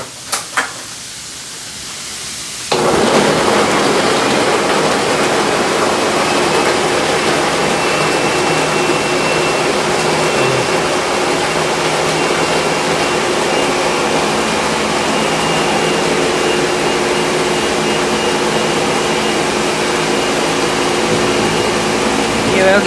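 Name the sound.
blender blending coconut with warm water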